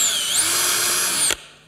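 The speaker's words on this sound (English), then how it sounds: "Now you want to drill a hole. One quick 3/16 hole" A power drill bores a quick 3/16 inch hole in wood, its steady high whine rising in pitch early on, then cutting off sharply after about a second and a quarter and fading to quiet.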